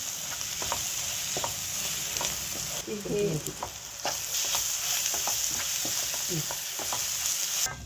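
MTR vangi bath spice mix frying in a pan for quick vangi bath, a constant close sizzle broken by repeated spatula scrapes and clinks in an uneven stirring rhythm.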